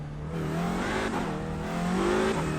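A race car engine drones steadily in iRacing, its pitch dipping and then climbing as the throttle is worked, loud and continuous with no talk over it.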